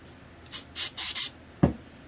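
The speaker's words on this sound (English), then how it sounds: "go ahead and spray some of this on a rag" Throttle body cleaner sprays from an aerosol can onto a rag in four short hissing bursts close to the mic, followed by a single soft thud.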